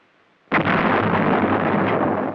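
A self-propelled 105mm howitzer fires once, close and loud, with a sudden blast followed by a long, dense roaring rumble that holds steady to the end.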